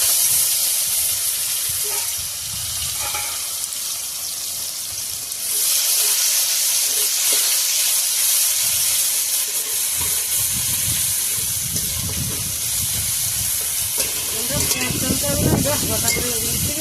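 Onion and tomato fry in a pan with a continuous hissing sizzle that swells and eases, with some low clatter and faint voices in the background.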